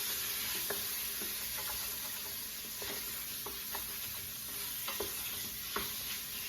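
Chopped vegetables cook alongside pork in a pan with a low, steady sizzle, quiet and even, broken by occasional soft taps and scrapes of a utensil.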